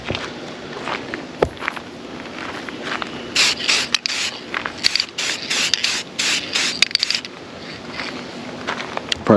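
Short hissing bursts of black spray paint from an aerosol can coating a Ring doorbell camera, quick repeated passes with small pauses between, close and fairly loud.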